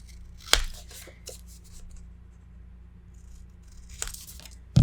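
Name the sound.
scissors trimming paper corners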